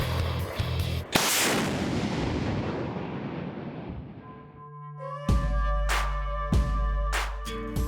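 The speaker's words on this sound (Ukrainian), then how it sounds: "Гармата гаубиця Д-20, калібр 152 мм" A D-20 152 mm howitzer fires, a huge near blast at about one second that rolls into a long fading rumble. Ringing, gong-like metallic strikes follow near the end.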